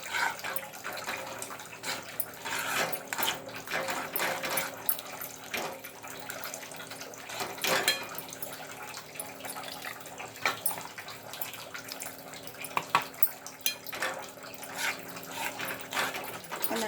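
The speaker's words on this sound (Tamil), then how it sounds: "கொஞ்சம் இதெல்லாம் அலம்பி கொஞ்சம் தண்ணி கொஞ்சம் சேர்த்துக்கலாம்" Water is poured into orange-peel pachadi as it cooks in a kitchen, a faint trickle and splash mixed with scattered clinks of utensils against the pan.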